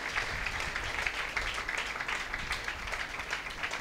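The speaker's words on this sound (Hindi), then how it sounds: "जोरदार तालियां खुदा उनके लिए बजा दें।" Applause from a church congregation during a Father's Day Sunday sermon, honoring God-fearing parents: steady, dense clapping throughout, moderately loud and diffuse, with no voices rising above it.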